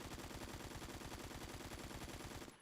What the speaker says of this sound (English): this is the AKM with like a full attachment setup and everything